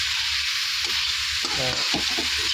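Cauliflower frying with spices in a pan, a loud continuous sizzle broken by a few close stirring scrapes.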